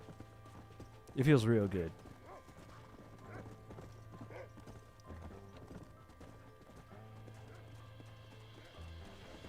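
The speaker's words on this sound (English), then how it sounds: "riding on the back of a horse is great, man, let me tell you" A horse ridden in the game Red Dead Redemption gives a loud whinny early on, then its hooves keep up a steady, quiet clip-clop while someone talks.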